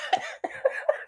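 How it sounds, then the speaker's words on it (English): A person deliberately forces out a cough, giving four short, rough bursts close to the mic with brief gaps between them. "That was a forced cough."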